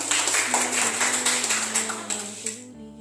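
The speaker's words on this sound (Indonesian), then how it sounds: "kita beri aplaus untuk kelompok 3" Applause from a classroom group during a lesson session, a dense steady patter of clapping hands that continues for nearly three seconds and then stops, with a faint hum underneath.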